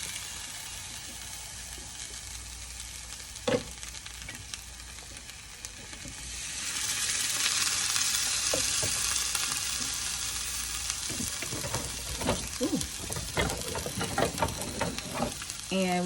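A pot of plant-based chili with tomato sauce sizzles steadily as it is stirred, a hissing cook that grows louder partway through, with scraping and clinking of the spoon toward the end and faint voices in the background.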